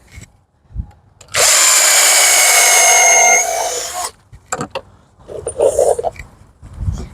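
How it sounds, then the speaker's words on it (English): Up close, a power drill drives a screw into wood while building a potato box, a loud steady whine lasting about three seconds, followed by brief clicks and handling noises. "And I'll put 3 screws in there"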